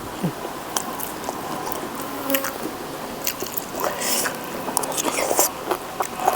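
Someone eats a Thai bamboo shoot curry with sweet honeycomb mushrooms, with close soft biting, squishy chewing and wet mouth sounds that come in irregular bursts, and some faint background sounds.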